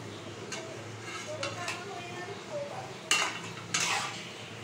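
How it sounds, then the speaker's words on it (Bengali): Luchi frying in hot oil in a kadai, a soft continuous bubbling hiss with a few sharper metallic clinks of a utensil against the pan, close and moderate in level. "এই যে আমি এরকম করে লুচিগুলো ভেজে নিচ্ছি"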